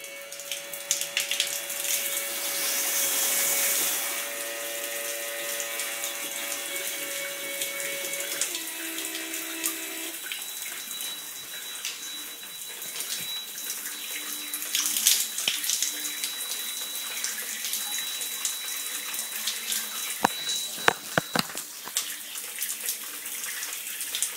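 Water runs steadily from a smart shower under temperature control, a continuous close hiss with a few faint tonal beeps and clicks and no talking.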